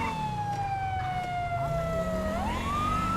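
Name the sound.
police siren in a video game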